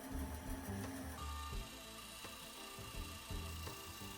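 A bandsaw cuts through wood for a DIY banana feeder, a steady mechanical whir with shifting tonal hum as the blade works the piece, fairly close and alone without voices.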